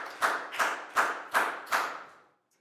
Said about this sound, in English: a big round of applause for Chu.